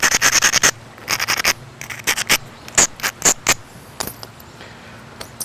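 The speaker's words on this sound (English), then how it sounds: "grind the base so it won't cut through the hafting" A flint point has its base ground so it will not cut through the hafting, giving bursts of sharp, gritty scraping strokes in quick clusters with short pauses between, close and fairly loud, with no talking.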